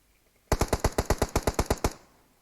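Automatic weapon fire in PUBG Mobile, heavy-weapons mode: a loud burst of about fourteen rapid, evenly spaced shots, close and alone, ending in a short fading tail.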